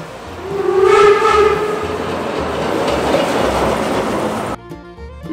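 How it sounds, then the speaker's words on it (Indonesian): A toy train rumbles with a steady rolling clatter and a brief whistle-like tone, loud and close, ending abruptly in a short stretch of choppy, faint background noise. "Ini kereta api."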